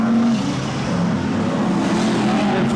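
BriSCA Formula 1 stock cars racing on the Kings Lynn oval in 1993, a loud sustained roar of several engines passing close with shifting pitch and revs, no talk.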